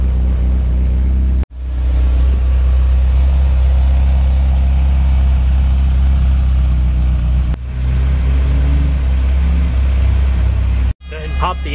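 A 1990 Ferrari 348 TS with a mid-mounted 3.4-liter V8 idling, a loud, steady low rumble close by, briefly cut off twice, with speech mixed in.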